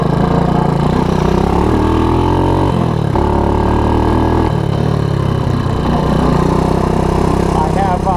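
A Honda ATC185S three-wheeler with a muffler fitted runs steadily close by, a continuous loud engine drone with slight shifts in pitch, and a voice talking over it.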